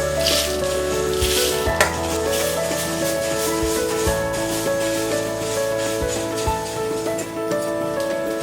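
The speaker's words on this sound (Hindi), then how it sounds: "अब हम इसमें डालेंगे ये रोस्टेड कुरमुरा" Roasted puffed rice (kurmura) is tipped into a pan of chivda mix with roasted dry coconut and stirred, giving a steady soft crackling sizzle with faint rustling scrapes throughout, near and fairly even, no talking.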